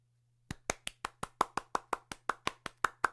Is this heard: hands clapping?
yes